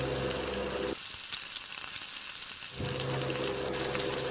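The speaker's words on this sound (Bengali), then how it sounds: "এরপরে দিয়ে দেব পেঁয়াজ এবং পেঁয়াজটাকে হালকা ভেজে নেব।" Onion with green chilli, ginger and garlic paste frying lightly in a pan, a steady close sizzle that briefly thins out before returning at full strength.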